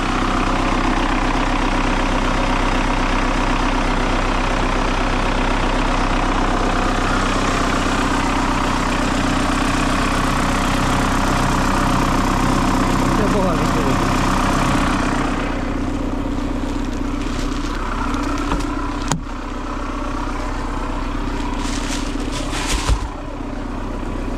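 An MTZ 892 tractor engine idles steadily in a corn field for the whole stretch, a low droning rumble with a few clanks and knocks near the end.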